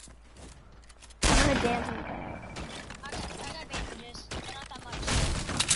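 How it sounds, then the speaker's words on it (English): Gunfire in an online video game, a burst of sharp cracks and rapid shots starting abruptly and continuing intermittently, mixed with players chatting over voice. "I heard gunshots."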